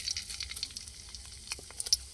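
Dried red chillies and cumin sizzle in hot oil in a wok, a crackling spatter with sharp irregular pops over a low hiss, close and alone.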